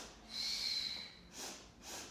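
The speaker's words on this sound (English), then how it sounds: "2 little sniffs as you pulse" Quick sniffing breaths through the nose during Pilates leg pulses: one longer hissing inhale followed by two short sniffs, close and fairly quiet.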